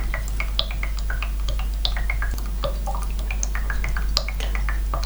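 Water trickles and drips steadily as a Green Stuff World brush rinser is drained, a continuous scatter of small close splashes and droplets over a low steady hum.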